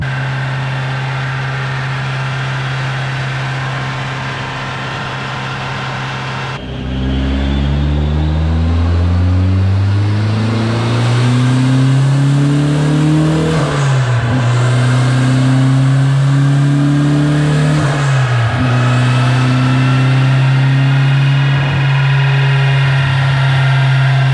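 A turbocharged Mazda Miata engine revs on a dyno with the wastegate set to 7 psi. It starts with a steady loud idle, then climbs through rising pulls with dips between them and holds a strong drone near the end, with no talk.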